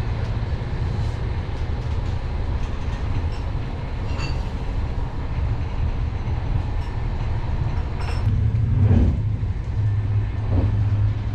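A train at Pasila railway station in Helsinki, on the route to Vaasa, gives a loud, steady rumble with wheel and brake squeals near the end, and no voices are heard.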